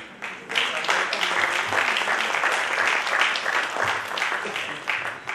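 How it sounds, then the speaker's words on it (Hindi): A crowd applauds steadily for several seconds, a dense, continuous clatter of many hands clapping at close range. "जोरदार तालियां प्लीज।"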